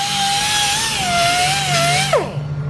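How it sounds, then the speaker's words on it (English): A high-pitched power tool whine polishing the edges of metal radiator and battery guards for an Aprilia Tuono. The pitch wavers steadily and then drops sharply as the tool spins down. "polishing the edges. Sounds like a dentist office."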